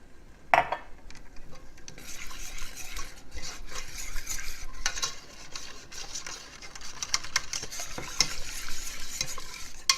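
Milk being whisked into a homemade cheese sauce in a pan, a steady scraping and stirring with light clinks and a soft sizzle running continuously up close, with no talking.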